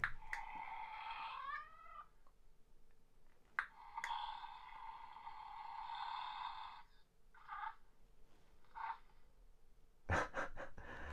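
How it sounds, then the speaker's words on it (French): A plush toy cat gives out electronic meows and purring cat sounds, several drawn-out tonal cries with short chirps, close and clear in a quiet room. "Il y a le petit chat et ils font du bruit."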